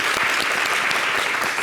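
Studio audience at a French television show clapping for a rapper joining the set, loud and steady dense applause filling the short stretch, with no talk over it.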